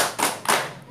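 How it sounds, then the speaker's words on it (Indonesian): A group claps the 'tepuk pintar' routine, two quick sharp clap bursts in close succession, near and fairly loud with no talking. "tepuk pintar dulu"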